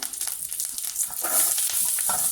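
A steady hissing sizzle of curry leaves frying in hot oil, growing slightly louder and fuller partway through, with no voices.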